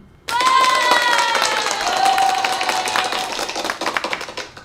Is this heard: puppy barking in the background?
no